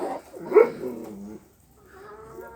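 A stray dog whimpers and yips close by at feeding time, a short whining burst followed by quieter softer whines and faint background noise.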